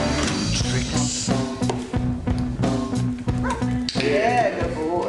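Dogs at a driving track give yips, woofs and whimpers throughout, over a dense, busy background with loud tonal noise.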